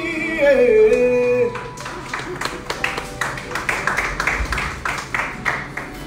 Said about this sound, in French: Est-ce qu'on peut applaudir pour Tatiana ici?